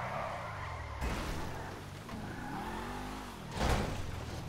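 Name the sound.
car driving and skidding in GTA 5 video game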